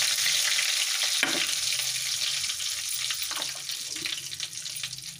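Fenugreek seeds, dried chillies, curry leaves and asafoetida sizzle steadily in hot oil for a sambar tempering, with a continuous crackling hiss and a few louder spits, close and without talk.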